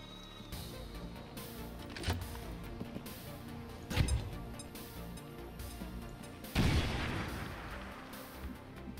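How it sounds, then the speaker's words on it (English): Explosive blasts in XCOM 2 Long War of the Chosen, a grenade detonation among several booming impacts over a steady game soundscape, with a loud burst near the end. "Are you close enough for your grenade now? Yes, let's shred some armor."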